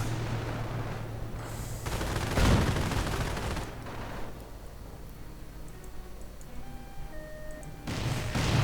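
Infantry gunfire from a World War II real-time strategy game, with Volksgrenadiers and Riflemen exchanging rifle and machine-gun bursts, including loud heavy volleys and fainter scattered shots in between, with no talking.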